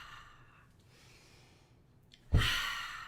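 During a qigong exercise, a quiet breathing sound is followed by a sudden loud, breathy exhale through the mouth that trails off slowly.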